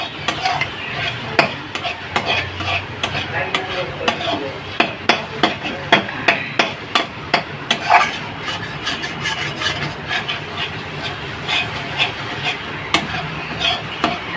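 Curd is added to spices frying in oil and stirred for a Bengali potoler dorma. A spoon knocks against the pan in a regular rhythm of sharp clicks, over a low, steady sizzle.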